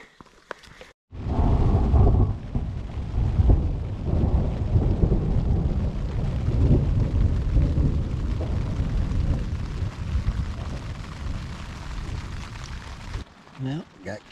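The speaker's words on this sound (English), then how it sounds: "camp set up just in time for a thunderstorm to roll in" Thunderstorm moving in over an elk hunting camp in the Colorado mountains, a loud sustained low rumble of thunder rolling on for over ten seconds, with steady rain-like noise beneath and no talking.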